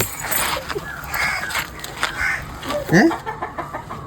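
Chickens and small chicks cluck and peep in short, scattered bursts close by, with people talking in a household setting around them.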